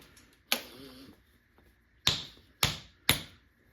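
A stone billet strikes a flint spall during preforming, giving four sharp, close knapping clicks: one at the start, then three in quick succession near the end.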